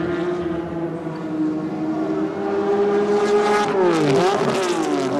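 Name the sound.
race car engine revving, missed gear change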